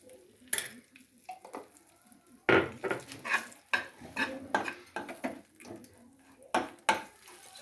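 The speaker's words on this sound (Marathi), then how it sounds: "चांगल्या प्रकारे ते लो फ्लेमवर भाजून घ्यायचं आहे" A spoon scrapes and stirs gram flour roasting in ghee in a pan over low flame, irregular close clinks and scrapes against the metal with a faint sizzle beneath.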